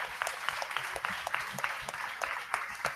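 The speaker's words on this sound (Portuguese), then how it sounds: "Quem pode aplaudir o Senhor que está nessa casa?" A church congregation applauds during a worship service, a dense patter of many hands clapping at a steady pace throughout.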